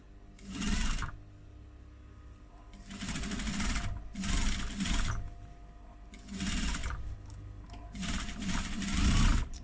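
Sewing machine top stitching a folded seam onto faux leather for a clutch wallet, running in several short bursts of a few seconds each with pauses and faint handling between.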